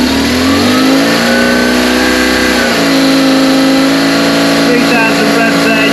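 Engine of a BMW R1150 GS motorcycle held at about 3,000 rpm during carburettor balancing, a steady close mechanical drone with a brief change in pitch partway through, loud and continuous.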